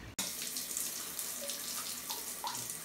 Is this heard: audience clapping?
no